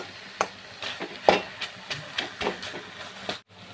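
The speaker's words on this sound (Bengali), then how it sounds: "আর মাথা দিয়েও কিন্তু বেশ কিছুক্ষণ এরকম নাড়তে হবে।" A spatula scrapes and stirs taro leaves with fried hilsa fish heads in a pan, giving a run of sharp, close knocks and scrapes at an uneven rhythm over a faint sizzle.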